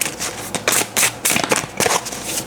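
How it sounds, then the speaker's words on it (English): Tarot cards being shuffled in close, quick bursts of riffling and flicking, several short rustling runs separated by brief pauses. "And then let's shuffle one more time."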